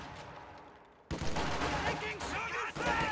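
Rifle volleys and gunfire crackle through a real-time strategy battle between grenadiers and conscripts fighting around a building, a dense burst of shots erupting after a quieter first second and continuing loud under steady commentary.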